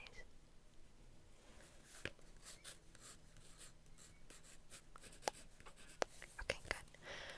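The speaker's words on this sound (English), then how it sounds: "I'm just going to quickly write down the time." A pen scratches quietly on paper close by, soft faint strokes with a few sharper taps near the end, in a hushed setting.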